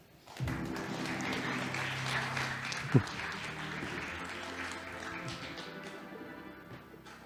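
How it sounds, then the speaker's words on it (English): An audience at a startup pitch competition applauds steadily for several seconds, a dense wash of clapping with one sharp thump midway before it slowly tapers off. "So let's please keep the applause coming."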